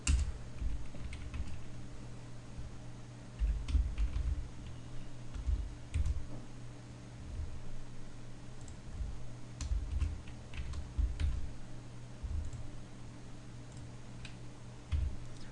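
Steady typing on a computer keyboard while entering code, a close series of quick clicking keystrokes in uneven bursts with no talking.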